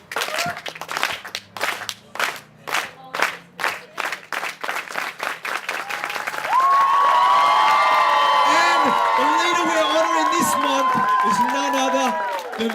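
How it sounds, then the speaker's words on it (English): Members of a dinner audience start with slow, rhythmic unison clapping, then break into loud sustained cheering and whooping with continuous applause and shouting voices. "let's get the clap going"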